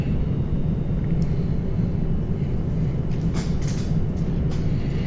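A Magknight 787 airliner in the flight simulator X-Plane 11 gives a steady, loud, low engine rumble and drone without a break, with a few soft clicks near the end.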